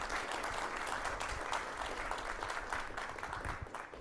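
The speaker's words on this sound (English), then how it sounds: "So one more round of applause for Jack, please." Faint, distant-sounding applause from an audience at a Science on Tap evening talk, continuous scattered clapping lasting around four seconds.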